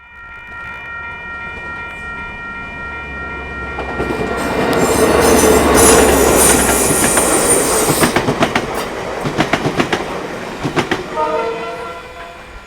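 A train passes on a New Zealand railway, rising from a distant rumble to a loud close roar, with horn tones and rhythmic clickety-clack of wheels as wagons roll by, then fading with squealing wheels.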